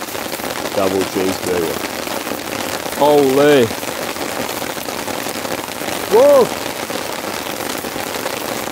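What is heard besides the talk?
heavy rainstorm falling on a tent campsite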